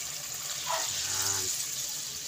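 Water poured from a tap into a cooking pot for boiling sardines, a steady gushing fill lasting under two seconds, close and moderately loud over a constant background hiss.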